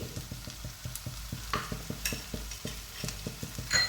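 Soya chunks sautéed with spices such as Kashmiri chilli powder and pepper in a pan, a rapid run of scraping stirs over a soft sizzle, with occasional metallic clinks, close and steady.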